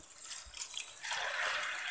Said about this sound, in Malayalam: എന്നിട്ട് ഇതിലേക്ക് ഞാൻ 1 ഗ്ലാസ് വെള്ളമാണ് ഒഴിക്കുന്നത്